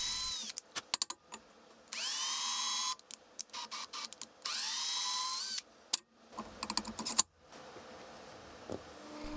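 Holes are drilled in aluminium with a 4.2mm stub drill bit, the bit biting in two sustained whining bursts with rising pitch, separated and followed by sharp clicks, taps and handling knocks at close range.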